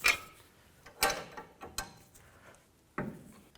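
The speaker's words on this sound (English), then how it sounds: "I'm going to use a 10mm wrench. That's going to prevent it from spinning. And just loosen it up." 10mm wrench loosening a sway bar link on a 2013-18 Ford Police Interceptor, with sparse metallic clicks and knocks, a few sharper taps and ratchet-like ticks, close and isolated.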